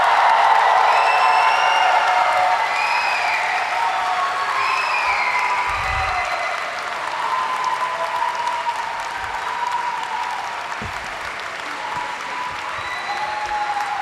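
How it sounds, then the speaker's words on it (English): Undergraduate commencement audience in a gym applauding and cheering for graduating statistics and data science students, sustained dense clapping with whoops and shouted voices riding over it, fairly loud and steady throughout. "Please join me in one more round of applause for the class of 2026."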